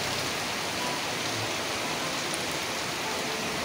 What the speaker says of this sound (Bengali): আজকে খুবই বৃষ্টি হচ্ছে জুড়ে